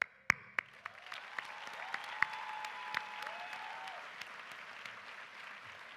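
Scattered applause from an audience at the 26th Annual AAFC ceremony at The Ohio State University, faint and distant, with a few sharp, louder claps standing out over a soft, steady patter.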